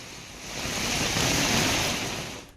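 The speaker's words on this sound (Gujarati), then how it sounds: "શહેરમાં વરસાદની શરૂઆત થઈ છે" Heavy monsoon rain pours down in town, a steady broadband hiss that swells in the middle and then fades slightly, with no voices.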